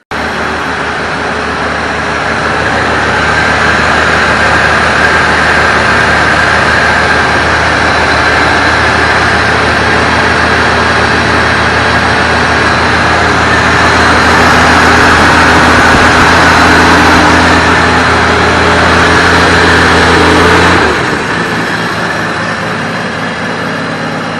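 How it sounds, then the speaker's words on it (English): A 1965 Plymouth Savoy engine, cold and running again after 19 years idle, idles loud and steady at close range with a low rumble and a slight shake, never stopping. "Not running too bad. It's got a little bit of a shake to the engine"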